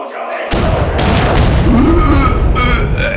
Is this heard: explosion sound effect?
yes